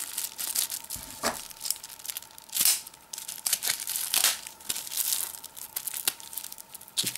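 Paper packaging around a USB stick is unwrapped close up, a run of crisp crinkling and tearing bursts in an uneven rhythm, loud and alone without talk.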